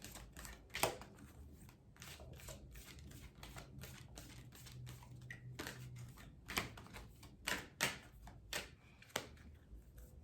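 Tarot oracle cards are shuffled by hand, giving crisp riffling flicks and sharp card snaps spaced irregularly over a quiet room before a card is drawn, with no talking.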